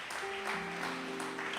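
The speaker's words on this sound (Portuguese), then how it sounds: "Vamos aplaudir o Senhor." A church congregation applauds together, a dense steady wash of clapping filling the room, with a sustained musical tone running underneath.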